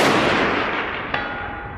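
A rifle shot at a target 314 yards away on a short range sounds as one loud blast whose echo rolls off slowly, with a brief faint ping partway through the decay.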